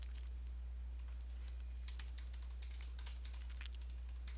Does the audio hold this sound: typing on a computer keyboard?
yes